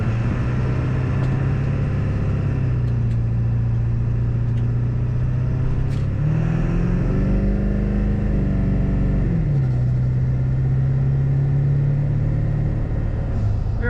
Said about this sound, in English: Good sounding diesel.